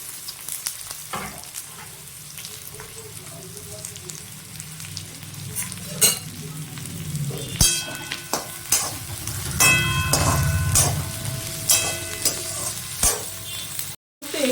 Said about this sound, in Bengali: এবারে কাঁচা লঙ্কা দিয়ে দিচ্ছি। পরে আমি ধনেপাতাটা দেব, আর এখন চিংড়ি মাছও দিয়ে দিচ্ছি।